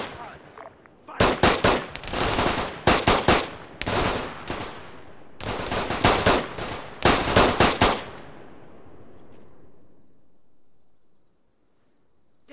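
Rifle fire in the Cold War game CSLA Iron Curtain comes as loud, close bursts of rapid automatic shots in several clusters, then a fading echo and quiet.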